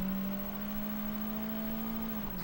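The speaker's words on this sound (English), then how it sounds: "this car is fucking loud" A loud car engine in the video game Sleeping Dogs drones steadily at a high pitch, holding its revs before dropping slightly near the end, with no talking.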